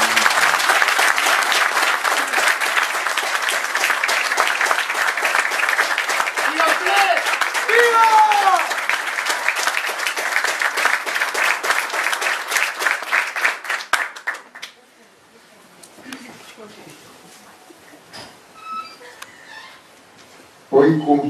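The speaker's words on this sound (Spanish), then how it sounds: "Por eso pido para él un aplauso muy grande de todos." Sustained applause from an audience at a televised interview about Che Guevara, loud and steady for about fourteen seconds, then fading out into quiet room noise with a brief burst at the end.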